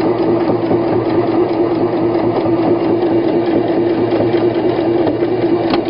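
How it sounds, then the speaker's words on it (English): Sewing machine stitching two layers of fabric for a tote bag, a loud, steady, close whirring drone with a rapid mechanical chatter running without pause. "I am going to do 2 back stitches because we are sewing 2 things together."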